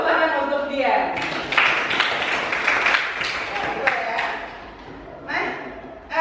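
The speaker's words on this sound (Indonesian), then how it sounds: "Tepuk tangan untuk Dian." A classroom claps for a student, a short burst of applause from a group swelling briefly and fading, mixed with voices talking over and around it.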